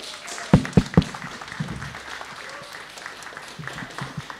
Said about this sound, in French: Je vous demande de l'accueillir sous vos applaudissements.